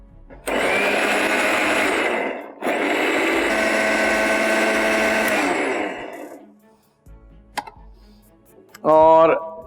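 Kitchen mixer grinder pureeing cooled cooked ingredients, two long loud whirring bursts separated by a brief pause, then a few clicks and a short voice at the end.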